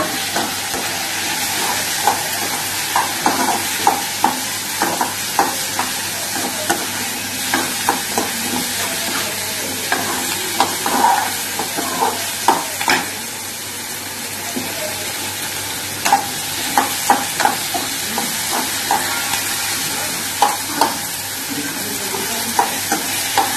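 Tomatoes and onions sauté in a pan for village-style crab curry, giving a continuous bright sizzle broken by frequent scraping stirs of a spoon against the pan.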